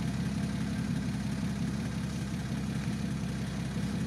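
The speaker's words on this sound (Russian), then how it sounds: "Классно, мотор работает." Four-litre engine of an off-road vehicle idles steadily on an icy off-road trail, a constant low rumble with no talk over it.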